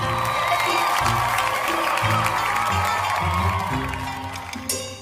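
An audience at an evening event claps and cheers loudly, with whoops and excited shouting over the applause, and voices call out within the din throughout.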